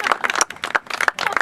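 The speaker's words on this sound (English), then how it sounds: "You can clap. It won't bother us." Audience clapping at a live golf exhibition show at a golf club, a burst of hand claps in uneven clusters, moderately close and fairly loud with no talk over it.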